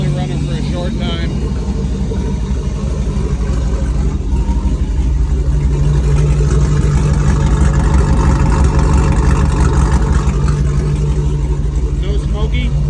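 An LS 6.0L L76 V8 running without a muffler in a 1971 Jeep Gladiator idles with a loud, steady, throbbing rumble that holds constant throughout.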